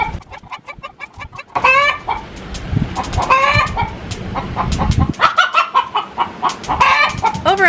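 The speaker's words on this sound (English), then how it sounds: "The chickens want to say hi." Chickens cluck repeatedly and close by, with a rooster-like call mixed in and rustling noise underneath; no talking.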